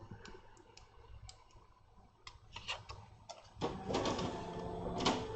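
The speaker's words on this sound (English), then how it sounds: "the printer's come to life, that's what the noise is, that's the laser printer" A laser printer starting up and running indoors, giving a series of ticks and clicks that build into a steadier mechanical whir in the last seconds, with no one talking.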